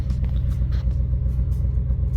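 A Ford Edsel engine idles with a steady, low rumbling hum, close by and unchanging throughout.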